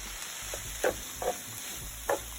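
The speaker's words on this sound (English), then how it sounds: "Stir it all together." Cold basmati rice and sweet corn being stirred in a frying pan for a vegan miso cookup rice: a few faint, quiet scrapes and shuffles over a low kitchen background, with no talking.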